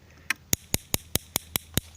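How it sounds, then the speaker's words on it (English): Spark gap in an electric vehicle charging system crackling in a steady rhythm of sharp, evenly spaced snaps, about five per second, close and clear over a low background hum. "what you're hearing there is the spark gap."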